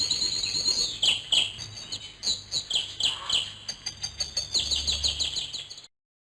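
Bright, rapid canary chirps and trills repeat over a soft low hum in a mobile memory-matching game, singing fairly close in quick bursts.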